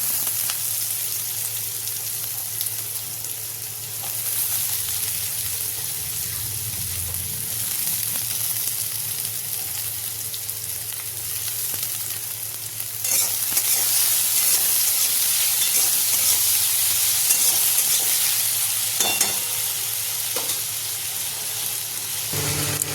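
Curry leaves and chopped potatoes sizzle steadily in hot oil for sabudana khichdi, a continuous bright crackling hiss that swells louder partway through, with no talking.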